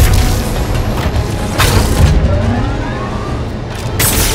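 Bombs go off during a fight in Marvel's Spider-Man video game, heard as loud, dense booms and rumbling blasts that continue without a break, with sharp bursts near the start and the end.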